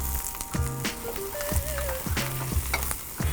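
Onion and capsicum sizzling in a little oil in a pan, a steady close frying hiss with rhythmic stirring knocks and scrapes at regular intervals.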